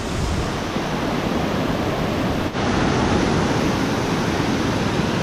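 Strong rushing water current near the Lodh waterfall roars as a dense, continuous broadband wash, loud and close, with no breaks apart from one brief dip partway through.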